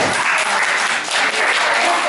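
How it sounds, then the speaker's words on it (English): A meeting audience in Tucson, Arizona, gives sustained applause for a panel of speakers, a loud, dense wash of clapping that holds steady for the whole stretch. "Let's all give them a round of applause."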